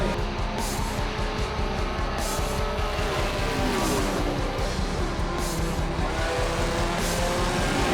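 A field of pure stock cars roars away together at the green-flag race start, a loud, continuous, layered engine drone with tire noise that builds steadily and never lets up.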